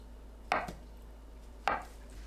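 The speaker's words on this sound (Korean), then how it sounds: "두부는 길게 반으로 자르고 1cm 두께로 썰어줍니다." Knife slicing tofu into 1 cm thick pieces on a cutting board, two soft separate thuds about a second apart, close but faint in a quiet kitchen.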